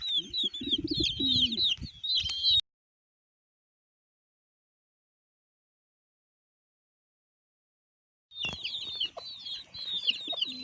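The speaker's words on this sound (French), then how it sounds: "Donc on se retrouve dans le même poulailler, mais par contre pour la partie des pigeons." Pigeons in a shared chicken coop, with dense birdsong-like chirps and soft low cooing and clucking that stop abruptly after a couple of seconds. A long silence follows before the bird sounds return.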